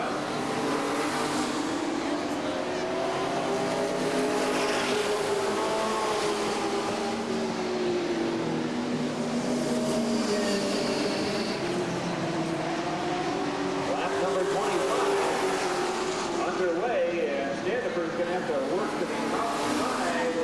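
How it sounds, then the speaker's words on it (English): Street stock cars race at Redwood Acres Raceway in 1989, a continuous loud roar of several engines rising and falling as they circle the track, with an announcer talking over them. "Gary Roberts spinning over his turn 3 and throws up another cloud"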